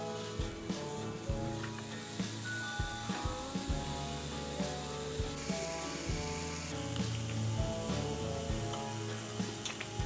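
Spinach and mushroom sizzle steadily in a hot pan while being mixed, a constant close frying hiss broken by soft scraping clicks of the utensil.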